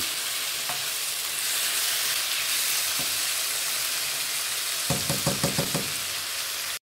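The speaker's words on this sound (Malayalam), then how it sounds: "അതുവരെ വീണ്ടും നമുക്കൊന്ന് വഴറ്റി എടുക്കാം" Tomatoes sauté with ginger garlic paste in a pan, a constant loud sizzle with a few knocks and a quick run of rhythmic stirring taps near the end.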